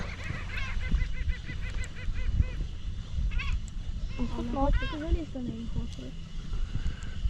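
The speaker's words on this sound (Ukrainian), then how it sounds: "А, то ще й дикі гуси тут є, дивись, а то дикі гуски ходять." Several wild geese honk in quick repeated calls over a rumbling outdoor background at a quarry, with voices faintly underneath.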